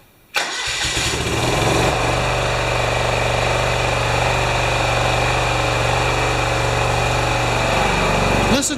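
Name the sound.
small gasoline engine starting and running after priming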